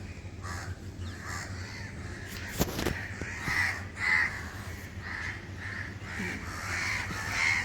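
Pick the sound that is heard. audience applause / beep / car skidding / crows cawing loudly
crows cawing loudly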